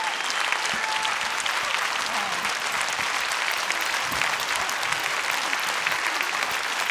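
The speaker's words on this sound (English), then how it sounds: "A really loud round of applause" Loud, sustained audience applause filling a hall in tribute to a speaker, a dense, even roar of many hands clapping without pause and with no talking over it.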